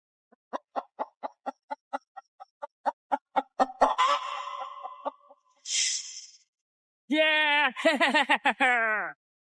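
A chicken on an island gives a run of short, evenly spaced clucks, then a louder squawk. Human laughter and chuckling follow, close by and clear.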